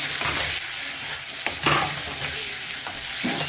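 Tomatoes and masala spices frying in a pan, a dense continuous sizzle broken by several stirring scrapes, loud and close.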